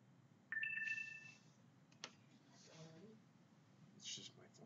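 A mobile phone ringtone sounds loud and close for about a second, a pair of steady tones, followed by a voice talking.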